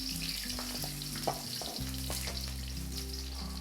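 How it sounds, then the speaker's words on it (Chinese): Scallion, ginger, star anise and cinnamon sizzle and get stirred in melted rock-sugar caramel, a steady close frying hiss with a few scraping strokes, heard alone with no talk. "放入葱姜八角桂皮，让锅降温，翻炒一下"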